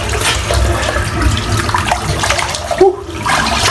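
Cold water gushes steadily from a tap, a loud continuous splashing rush with a brief gurgle near the end.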